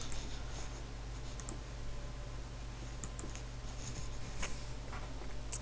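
Soft mouse clicks while playing Cookie Clicker, scattered and irregular, faint over a steady low hum, without speech.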